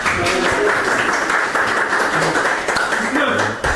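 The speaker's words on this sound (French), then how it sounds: "applaudissez-le" Studio audience applauds continuously, a dense patter of clapping mixed with crowd noise that holds steady throughout.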